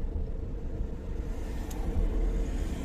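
Road traffic with cars passing at a steady, moderate distance, a continuous low rumble of engines and tires that swells slightly toward the end, heard alone without talk.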